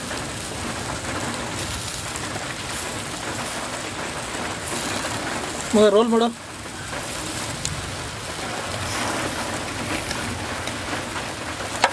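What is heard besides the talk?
rain falling beside chicken barbecue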